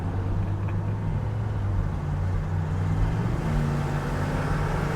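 A 1990 Cadillac Fleetwood hearse accelerating hard, its engine a steady low rumble with a rising drone that climbs in pitch partway through, heard from inside the car without talk.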